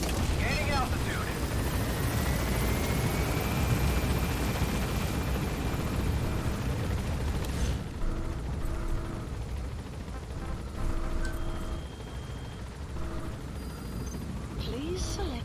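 A helicopter lifts off in the video game Metal Gear Solid V, a loud, steady rotor and engine roar that holds and then drops away sharply, followed by quieter game ambience with a voice speaking.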